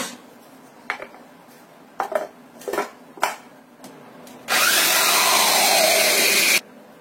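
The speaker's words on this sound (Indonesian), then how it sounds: "Kemudian kita blender sampai halus." An electric blender whirs loudly for about two seconds, blending a coconut milk mixture until smooth, after several clinks of dishes and utensils in a kitchen.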